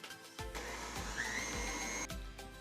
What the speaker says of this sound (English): let's whisk this until everything is nice and combined